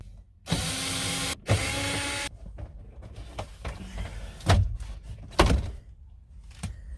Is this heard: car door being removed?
yes